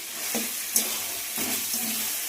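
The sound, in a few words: food frying in a pan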